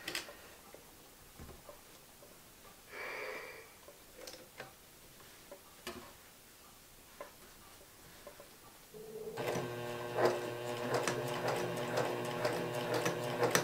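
A sewing machine stitches quilt binding with invisible nylon thread in the bobbin, starting after a few faint ticks and handling noises and then running in a steady, close, rapid mechanical chatter.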